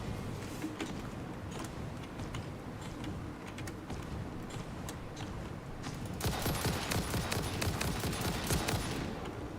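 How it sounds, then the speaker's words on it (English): Video game gunfire rattles in rapid, dense bursts of sharp cracks, growing louder and busier toward the end, with no voices over it. "Are you shooting at me?"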